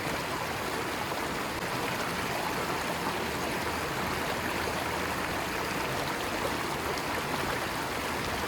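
Water is poured from a cooking pot while someone bathes outdoors in a forest camp, giving a steady, close rush of splashing water that continues unbroken throughout.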